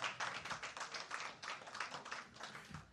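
A church congregation applauds together, a steady rhythmic patter of many hands clapping, faint and distant, with no voices over it.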